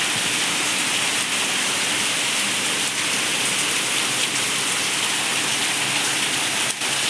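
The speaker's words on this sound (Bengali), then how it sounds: "প্রচুর বৃষ্টি হচ্ছে বন্ধুরা, দেখো ঝাপটা আসছে" Heavy rain pours down steadily onto surfaces outdoors, a loud, unbroken wash of drumming water with no break and no voices.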